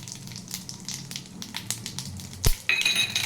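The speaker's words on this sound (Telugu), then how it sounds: "ఇప్పుడు పోపు దినుసులు వేసేస్తాము" Tempering spices dropped into hot oil for Rayalaseema-style tamarind-leaf dal, a steady soft sizzle with a sharp clink of a utensil midway, followed by brighter crackling.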